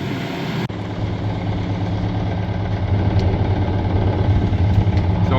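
Tugboat engines churning during a tugboat race off New Zealand's North Island, one being the old Goldie, a steady loud low drone holding throughout after a brief cut near the start, with no speech.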